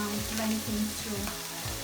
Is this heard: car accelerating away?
no